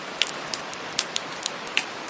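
Steady rain falls on a cold, windy day outdoors at a memorial, a continuous hiss with scattered sharp drop ticks, fairly close and moderately loud, no voices.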